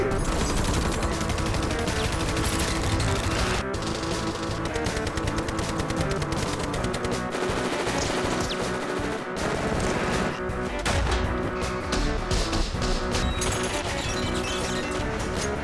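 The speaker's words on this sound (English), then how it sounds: "your senses will be under assault from endless arsenals of guns, guns, guns, guns" Gunfire in the Terminator video game, a dense, continuous barrage of loud shots and crashes layered over game music throughout.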